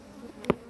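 Honey bees at an opened hive, kept by a father and son: a faint low hum underlies a single brief, louder buzz as one bee passes close to the microphone, with no talking.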